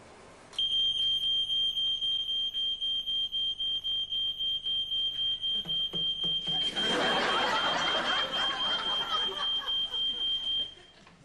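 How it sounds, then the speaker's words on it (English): A shrill electronic alarm sounds continuously for about ten seconds, loud and steady with a rapid pulsing pattern, while a burst of noisy clatter and commotion rises underneath partway through. "Let's set off the alarm and see what he does."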